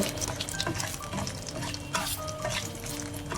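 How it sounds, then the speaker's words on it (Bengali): Dried red chillies, lightly salted, crackle and sizzle densely in hot oil in a pan, a close, continuous frying hiss broken by soft stirring scrapes. "আমি এখন মরিচগুলো ভেজে নেব"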